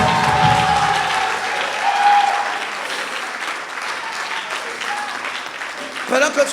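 A church congregation applauding to acclaim the Lord, sustained clapping and crowd noise that gradually thins out, with a voice speaking over it near the start.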